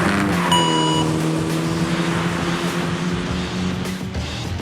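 Toyota Celica ST205 rally car on a fast lap, its engine a steady loud drone with a strong harmonic hum that rises slightly early on then holds, close and continuous throughout.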